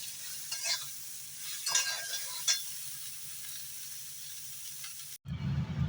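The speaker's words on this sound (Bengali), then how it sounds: "রসুন, পেঁয়াজ সবটাই দিয়ে দিচ্ছি। কাঁচা লঙ্কাটা আমি একটু পরে দেবো। তো এগুলো একটু ভাজা ভাজা হবে" Garlic and onion frying in oil with eggplant pieces in a pan, a close, steady sizzle with a few stirring scrapes, then an abrupt cut to a louder, hotter sizzle near the end; no talking.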